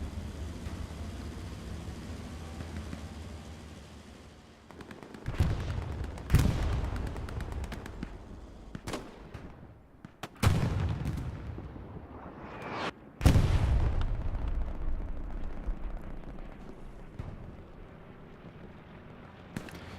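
Rocket fire and explosions crash through a competitive Hell Let Loose match at Carentan train station: several heavy blasts a few seconds apart, each a sharp crack trailing into a rumbling roar, the loudest coming late over steady battlefield noise.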